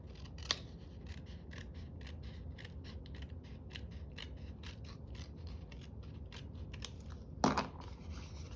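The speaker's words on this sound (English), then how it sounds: "So I want to cut that edge off and just have a clean fold over." Scissors snip repeatedly through a paper edge while trimming a junk journal page, a steady run of crisp, close metallic cuts. One sharper, louder snap lands near the end.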